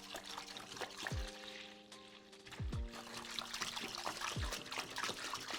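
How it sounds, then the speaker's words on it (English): Apple cider poured from a gallon jug into a turkey brine, a steady close liquid pour and splash with gurgling bursts, no talking. "So I've got another gallon of apple cider, and I'm gonna pour that in"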